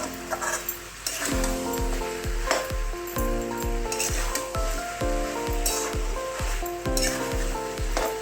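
Chicken sautés over a medium flame with a steady, loud sizzle, while a utensil stirs it in a regular rhythm of scraping strokes against the pan, close by and with no talking.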